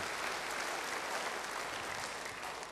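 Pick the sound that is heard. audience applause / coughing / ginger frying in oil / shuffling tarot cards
audience applause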